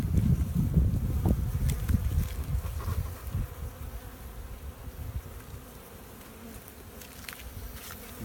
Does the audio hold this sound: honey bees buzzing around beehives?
yes